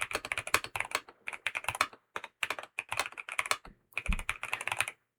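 Someone types on the keyboard of a BYOK writing device in quick bursts of close, crisp keystrokes, with short pauses between phrases and no voices.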